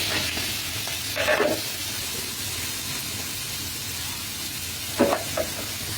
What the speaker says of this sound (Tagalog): Gigisa na natin ito, sibuyas bawang.